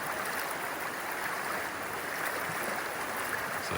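A river in New Zealand's Maruia area flows past in a constant, even rushing wash, moderately loud and unbroken, with no talking.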